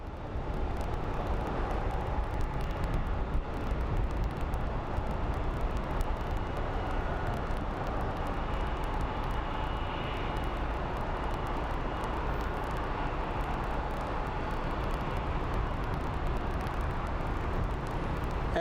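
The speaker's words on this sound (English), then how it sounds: "And there's the big chunky plane. He's about to make a turn here." A large airplane climbing away near Phoenix Sky Harbor airport gives a steady, broad engine roar that holds evenly throughout, moderately loud and distant with no talking.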